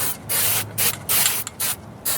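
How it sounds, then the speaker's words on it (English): Aerosol bursts of Fluid Film rust protection sprayed onto the front wheel hub and new E-coated Wagner rotor of a 2004 Jeep Liberty: four or five short hissing blasts separated by brief pauses, close and fairly loud. "I'm going to give this a quick coat of the fluid film here"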